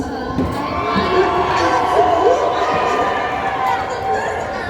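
An audience at an anime convention cheers and shouts in a large hall, a sustained, loud crowd roar with whoops and higher voices rising and falling throughout.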